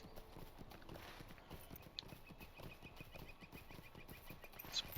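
Horse hooves clip-clop in a steady rhythm as a mount is ridden downhill in Lord of the Rings Online, the clear repeated beats running throughout under a faint ambient bed with a couple of bird chirps.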